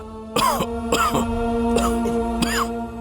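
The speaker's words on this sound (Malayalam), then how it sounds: "നല്ല ചുമയുണ്ടല്ലോ" Four harsh, raspy coughs come in close succession from a nearby elderly person, each a rough burst with a brief pause between.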